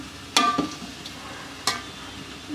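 Yogurt being stirred into sizzling biryani masala, a low steady frying hiss punctuated by two sharp clattering scrapes of the spoon against the pan, close up.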